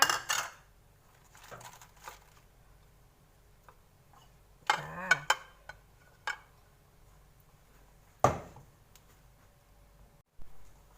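Catfish larb with lemongrass and kaffir lime leaves is ladled into serving dishes, with scattered close clinks and taps of utensils on dishes separated by quiet gaps.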